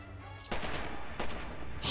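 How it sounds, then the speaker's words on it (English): Artillery shells burst close by in Red Orchestra 2, two heavy blasts following a quiet moment, the second ending in rumbling debris. "Artillery, danger close."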